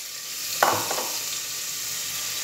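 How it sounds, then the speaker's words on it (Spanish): Chopped onion drops into butter and olive oil heated in a pot, giving a sudden short hiss that fades into a soft, steady sizzle under a constant background hum. "Vamos a dejar ahí unos 5 minutitos que se fría bien la cebolla, bien fritita"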